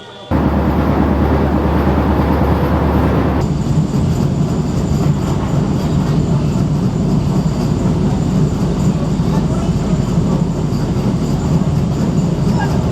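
A train near Krishnanagar railway station on a Sealdah-bound service, a loud continuous rumble of wheels on rails with a shift in tone after a few seconds, steady and close, no talking.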